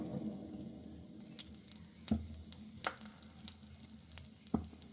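Whole spices sizzle in hot oil for a Bengali fish curry of tengra and shing fish, a soft steady hiss broken by a few sharp pops and crackles close by.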